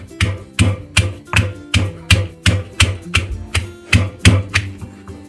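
Green chillies being pounded into Maharashtrian thecha, a steady series of about a dozen hard, evenly spaced thuds from a pestle or pounder, each blow close and resonant.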